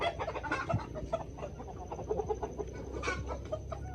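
Chickens set out in the sun cluck softly and intermittently nearby, with scattered short calls over a quiet farmyard background.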